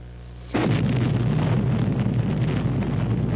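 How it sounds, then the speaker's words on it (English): A simulated atomic cannon blast from a 1954 US government film hits suddenly after a brief low hum, then rolls on as a loud, sustained roaring rumble with wind-like buffeting that does not fade. "What you will see here is a simulated atomic explosion."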